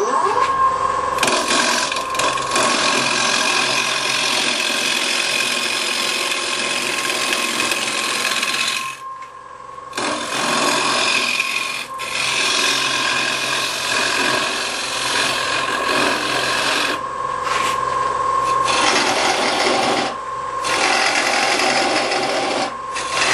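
A Ci1 Easy Rougher cuts very hard wood on a lathe: a steady, loud rasping scrape with a humming tone, broken by a few short pauses before cutting resumes.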